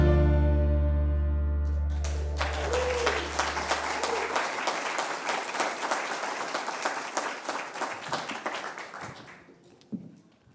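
Sustained applause and clapping from a church congregation for the worship band at a Sunday morning service, dense and steady after the final music chord fades, tapering off toward the end.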